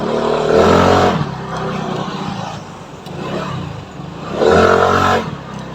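A CVT scooter accelerates under a throttle test, the engine whining up in two loud revving bursts separated by a quieter idle stretch, close and alone.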